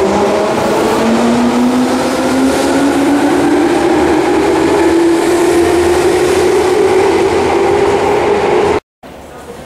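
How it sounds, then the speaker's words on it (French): A train pulling into Hiro station in Japan, a loud close rumble with a slowly rising whine as it moves, ending in a sudden brief drop to near silence, with someone speaking over it. "Je suis arrivé à la gare de Hiro 駅に着いた。"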